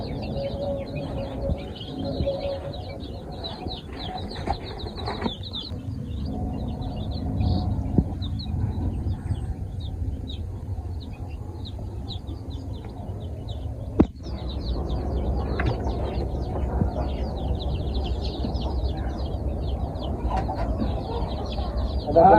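Young chicks and hens in a farm brooder house strewn with rice husk, chirping and clucking continuously, with high peeping over a low, steady rustle and a brief knock partway through.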